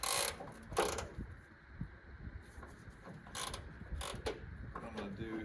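Ratchet wrench loosening 12 mm engine mount bolts on a 1997 Toyota Tacoma with a 3RZ engine, close and moderately loud clicking strokes in irregular bursts, a few sharper metallic clanks between them.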